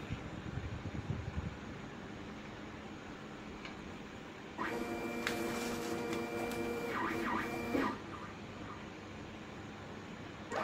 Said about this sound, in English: We only let go after the print protocol is being printed out from the printer.